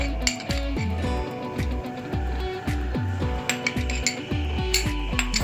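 A metal spoon clinking against a bowl while stirring fruit chaat with tutti frutti, giving repeated rhythmic taps and scrapes, close and fairly quiet, over a soft background of music.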